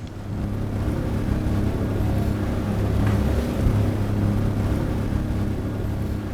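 A motorboat engine drones steadily throughout, a constant low rumble with water and wind noise, no talking.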